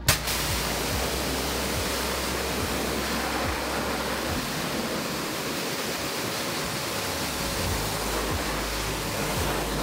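Low-pressure washer spraying water to rinse moss and grime off a car, a steady loud hiss of spray running continuously and close throughout.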